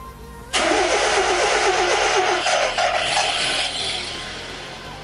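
A car engine controlled by a Speeduino Teensy board cranks and catches with a sudden loud start, then settles into a steady, slightly fading idle nearby.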